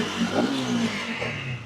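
An RS motorcycle engine revs close by in one short burst. The pitch climbs briefly, then settles back to a steady idle, with no voices.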